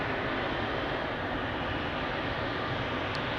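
A Turkish Airlines jet departing from Amsterdam Schiphol Airport gives a steady, distant low roar of engine noise with no distinct events.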